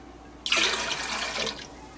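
Water glugs into a pot of vinegar pickling brine for canning carrots, a sudden close pour that begins abruptly and runs steadily for about a second and a half before tapering off.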